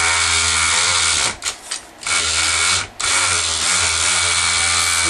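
Power sander sanding under heavy downward pressure, a loud steady high whine that dips briefly twice as it is loaded, then recovers and keeps running strong.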